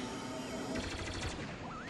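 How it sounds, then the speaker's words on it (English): Battle cruiser cannons fire in Star Wars Battlefront II as a rapid burst of booming shots layered over constant battle noise, loud and short. "watch its cannons go to work"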